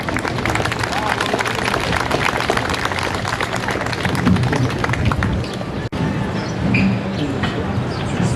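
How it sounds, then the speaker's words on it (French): Applause and cheering from a crowd at the 70th anniversary ceremony of a wine brotherhood in Auvergne, dense and loud for about six seconds before a short break, then continuing with murmuring voices. "Oh, applaudis."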